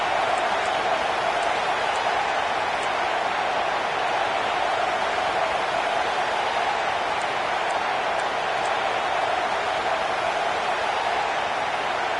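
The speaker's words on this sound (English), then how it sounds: "the crowd coming to life here trying to help this defense down in the red zone" A football stadium crowd roars steadily and loudly to back the defense in the red zone, a dense, unbroken wash of cheering noise with faint whistles that holds level throughout.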